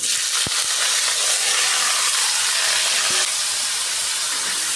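Bottle gourd stems drop into hot oil and sizzle with a continuous hiss, joined by a small clink near the start and another around the third second.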